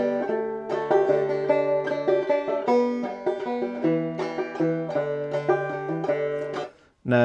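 A 5-string banjo picks a waltz-time arrangement of the Skye Boat Song in G, bright plucked notes ringing in a rolling three-beat pattern, close and clear before stopping abruptly near the end.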